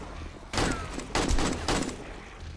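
Machine gun fire in the 7 Days to Die video game on a nightmare horde night comes as rapid bursts of loud, close automatic shots, three main volleys separated by brief gaps.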